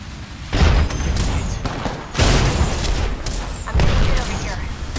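In Apex Legends, a thrown grenade goes off amid gunfire: loud, close booms and crackling shots come in three heavy bursts over continuous firing noise.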